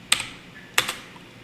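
Computer keyboard typing in a quiet room: two quick bursts of a few sharp key clicks each, close and fairly soft, with no talk.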